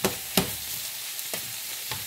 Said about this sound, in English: I'll saute it in with the vegetables.